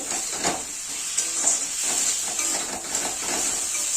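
Spicy puti fish masala with green chillies and a splash of water, sizzling and hissing steadily in a pan while a spoon stirs it, steady close frying with soft scraping strokes.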